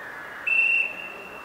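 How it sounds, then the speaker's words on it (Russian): A referee's whistle gives a single short, thin blast over the faint crowd noise of an indoor football match, then fades out. "После свистка."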